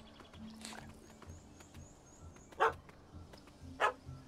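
Puppy barking in the video game The Witcher, two sharp, loud yaps spaced about a second apart over quiet ambient background with faint softer sounds.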